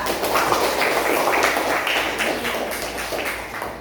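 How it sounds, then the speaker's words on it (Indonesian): A classroom of students applauds a group after its answer, with dense, continuous clapping that is loud at first and tapers slightly over several seconds, with no talking over it. "Oke, kita kasih tepuk tangan untuk kelompok 2."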